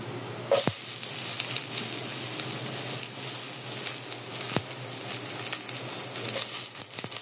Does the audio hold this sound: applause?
no